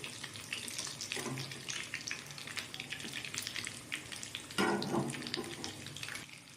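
An egg cutlet fries in a pan on a stove over medium flame, giving a steady broadband sizzle with a brief louder burst near the end, close and moderately quiet, with no talking.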